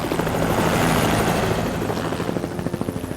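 Search helicopter passing over a valley, rotor thumping loud and close at first, then the blade chop turning into distinct rhythmic pulses as it moves off.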